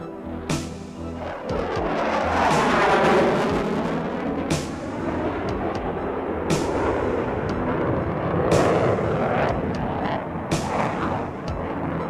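A pair of Egyptian Air Force General Dynamics F-16 fighter jets fly past, a loud, sustained jet roar with shifting, swooping tones and sharp bursts, filling the whole stretch with no speech.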